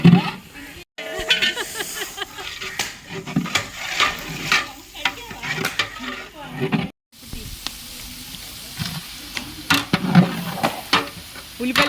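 Onions fry in a pan for a village-style mutton curry, sizzling in uneven bursts with stirring scrapes, broken by two brief silences and accompanied by some talking.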